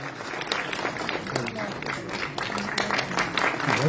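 A school prize-giving ceremony audience claps loudly and raggedly in honour of a second-place winner, with speech running over the applause.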